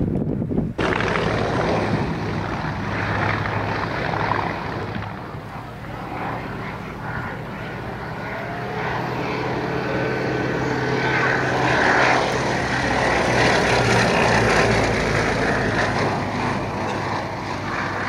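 A Westland Lysander propeller aircraft flies past at a military air pageant, its radial engine drone steady and moderately loud throughout, with wind buffeting the microphone.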